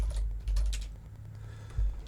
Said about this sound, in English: So we're going to type out output